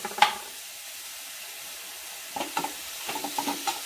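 Potatoes and vegetables with coriander sautéed in a pan, quiet clinks of stirring and soft sizzling that come up in short bursts after a near-silent stretch.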